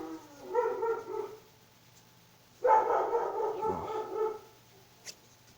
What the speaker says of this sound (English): The dog and cats are making quite a ruckus, which is waking up a lot of people here.